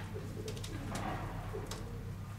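Breeding pigeons coo softly in a loft, low repeated burbling calls heard faintly under a steady hum of background noise.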